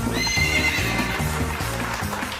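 A horse neighs as a film comedy sound effect: a loud, bright whinny layered over a steady rhythmic pattern like clip-clopping hooves, close and continuous without speech.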